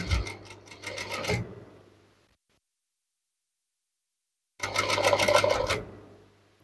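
A straight-stitch sewing machine sews lace in two loud bursts of rapid, even needle clatter. The first ends after about two seconds and is followed by silence, then the second starts.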